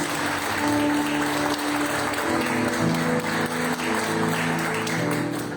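A congregation applauds during a Baptist church service, continuous clapping from many people, with sustained musical tones and voices blending underneath at a steady, moderately loud level.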